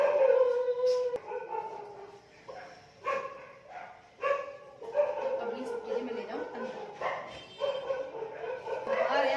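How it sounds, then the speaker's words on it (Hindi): Dogs bark and yip repeatedly in uneven bursts, some barks drawn out into howling whimpers, fairly close and moderately loud throughout, with a person speaking in places. "कुत्ते इतने ज्यादा हैं, पूरे दिन मोमो मोमो करते रहते हैं।"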